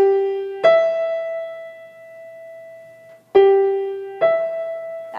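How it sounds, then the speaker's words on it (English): Piano plays a melodic interval as single notes one after another, a lower note then a higher one, repeated twice, each note ringing clearly and decaying alone. "Whereas the melodic one is played one at a time."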